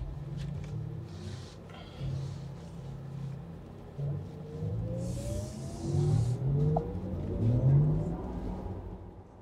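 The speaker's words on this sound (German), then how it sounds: "Haben jetzt mal den Sportsound abgeschaltet, um auch zu hören, dass das Auto auch leise kann." A Porsche Taycan electric car cruises on the Autobahn with the sport sound turned off, giving a subdued whir with rising and falling electric motor tones over steady road and wind rush, inside the cabin.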